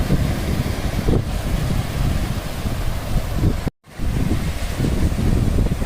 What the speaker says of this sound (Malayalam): കടൽപ്പാലത്തിൻ്റെ അപ്പുറത്തുള്ള ബീച്ചിലാണ് നമ്മളിപ്പോൾ ഉള്ളത്.